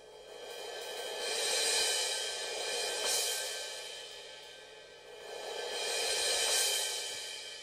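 A cymbal swell played as a roll on the edge of a cymbal pad on a Roland TD30KV V-Pro electronic drum kit, rising and falling in two smooth, sustained shimmering waves with softened attacks, heard alone.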